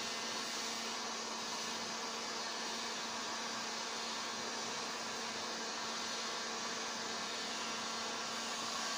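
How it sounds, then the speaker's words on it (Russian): A heat gun gives a steady, airy blowing hiss with a constant motor hum, unchanged throughout, close and continuous with no other sounds, while heating a foam flower petal. "Включаем строительный фен"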